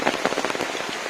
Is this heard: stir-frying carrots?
no